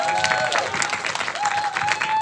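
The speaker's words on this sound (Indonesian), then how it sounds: "Tepuk tangan buat Wulan Guritno." Audience applause for actress Wulan Guritno at a press conference for the series Serigala Terakhir 2: dense steady clapping from a crowd, close and loud throughout, with tonal feedback-like hums and faint voices underneath.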